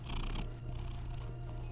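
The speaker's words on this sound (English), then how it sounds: "Can you hear him purring?" A pet cat purrs close up, a steady low rumbling drone with a brief brighter rustle at the start.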